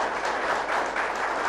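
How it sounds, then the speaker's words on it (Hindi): Audience applause, a dense burst of clapping from a crowd filling the room, loud and sustained throughout the brief moment with no speech on top. "जोरदार तालियां आप ही लोगों के लिए"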